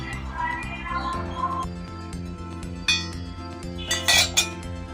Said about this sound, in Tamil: பூஜை பாத்திரம்லாம் விளக்கியாச்சு